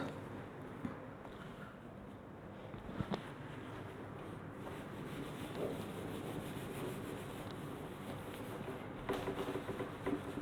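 A board is rubbed clean of written work during a trigonometry lesson, giving a steady, soft scrubbing friction that continues without pause at low volume, with no voices over it.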